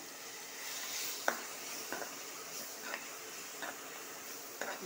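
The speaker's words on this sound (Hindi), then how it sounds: "इसको भी हल्का सा भून लेंगे और ये जो हमारे हमने पेस्ट बनाया था मसाला प्याज और मिर्ची लहसुन का थोड़ा सा जीरा डाला था" A spice paste of onion, chilli, garlic and cumin roasting in a pan, a faint steady sizzle broken by a handful of soft, evenly spaced taps and scrapes from stirring.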